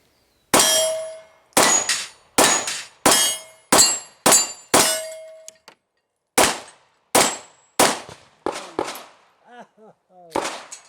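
A Glock 48 pistol fed from a Glock 17 magazine fires about ten loud sharp shots in a fairly even rhythm, each followed by a ringing metallic tail, with lighter clinks after the last shot.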